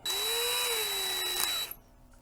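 A power drill whirs steadily at high speed, close and loud, its pitch dipping slightly before it winds down and stops.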